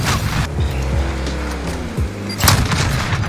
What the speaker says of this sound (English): I blow someone up with C4.